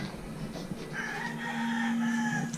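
A native chicken rooster crows once, a drawn-out call rising and holding near the end. It sounds fairly close, with faint clucking and outdoor background noise.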